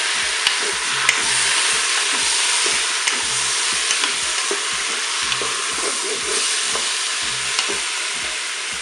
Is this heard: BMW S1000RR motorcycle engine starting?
no